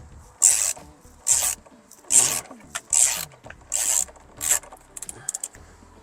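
A Porsche Cayman S steering wheel is worked loose on its hub with repeated scraping, grinding rubs in about six short bursts, close and fairly loud, followed by a few lighter clicks.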